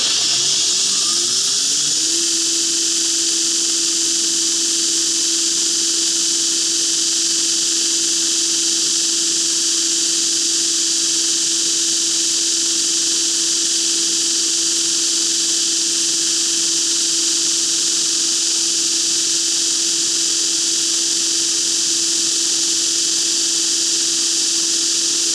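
A belt grinder runs an 80 grit belt at 7,600 surface feet per minute, grinding a knife blade bevel with a loud, steady high whine and a constant motor tone throughout, no speech.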